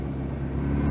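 A 2009 Kawasaki ZX10R motorcycle engine at full throttle in sixth gear, a steady low droning rumble that holds at a loud, even level throughout the short stretch.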